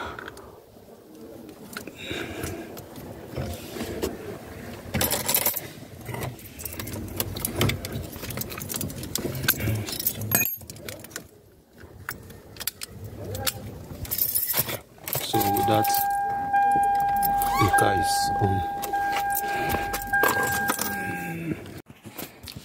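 A key jangles on its ring and clicks while turning the ignition switch of a 2007-2011 Toyota Camry on and off, close up, with faint dashboard chimes and mechanical clicks, and quiet talk underneath.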